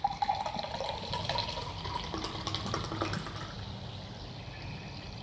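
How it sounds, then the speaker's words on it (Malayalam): Soda pours continuously into rice water for a fuljar drink, making a steady, close hiss of splashing and fizzing liquid for the whole stretch. "സോഡ ഒഴിക്കുക."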